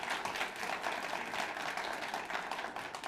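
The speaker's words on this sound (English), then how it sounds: "so let's give applause to that" An audience in a community forum gathering claps steadily, a soft, dense patter of many hands heard from a distance at low level, without speech over it.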